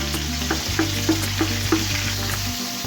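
Ginger frying in oil pooled in a tilted pot for a gram flour salan, with a continuous close sizzle, a low steady hum and several light stirring clicks spaced about half a second apart.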